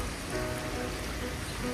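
Heavy spring rain falls in Istanbul as a constant, dense hiss and patter close by, steady throughout with no voices.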